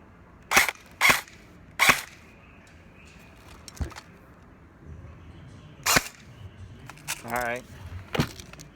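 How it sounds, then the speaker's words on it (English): Battery-powered toy gun firing several sharp test shots on a practice range, three quick snaps close together followed by a few more spaced cracks, with faint background noise between. "I'm going to fire a few test shots to make sure this gun is working"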